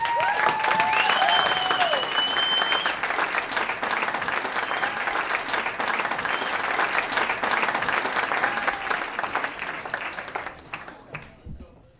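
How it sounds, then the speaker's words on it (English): A live storytelling audience at The Moth applauds a storyteller: dense, sustained clapping with a few cheers and whistles, steady and loud, then fading away near the end. "Let's hear it for Ed Gavagan."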